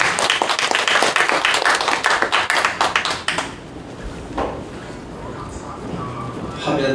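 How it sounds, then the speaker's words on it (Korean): A church congregation at a symposium in Sungui Church, Incheon, claps vigorously for a pastor coming forward; the brisk clapping lasts about three seconds, then drops away to a quiet room with faint shuffles. "나오실 때 힘차게 박수하시겠습니다."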